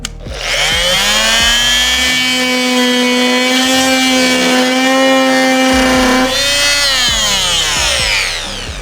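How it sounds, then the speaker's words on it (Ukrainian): Dnipro-M MF-42SEQ corded oscillating multi-tool sawing into wood, a steady loud buzzing whine that holds for several seconds as the blade bites, with a pitch change near the start and end of the cut. "Беремо деревину і показуємо, що він її пиляє"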